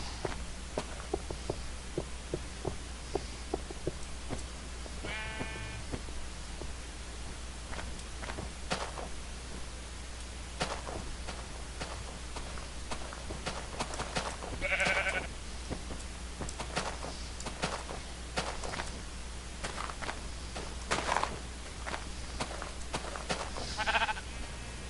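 Sheep in the game Minecraft bleat in short, separate calls spread over a steady low background, with soft footstep-like taps between them.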